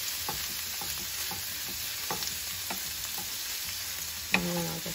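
Dim sum dumpling filling of diced cooked pork sizzling in a pan, a steady close hiss broken by light spatula taps and one louder knock near the end.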